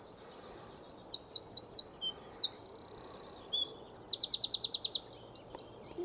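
A wren sings loud and close in a long series of rapid trills and twittering phrases, alone with no voices and only light background hiss.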